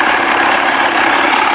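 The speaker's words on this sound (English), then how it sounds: "that's the best it sounded all day idling" A 1979 Evinrude 55 hp outboard motor idling, loud and close with a steady buzzing mid-range drone and no voices over it.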